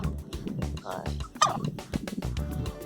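Turkey poults and hens gobble and cluck close by, a busy flock calling in overlapping bursts with one sharper, louder call partway through.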